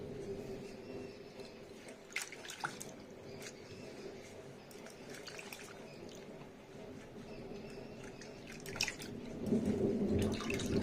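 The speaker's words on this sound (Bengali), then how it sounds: "এটাকে কুমড়ো পাতাটাকে ভালো করে ধুয়ে নেবো" Pumpkin leaves are washed by hand in water, giving soft, quiet splashing, squishing and dripping that runs steadily throughout and grows slightly louder near the end.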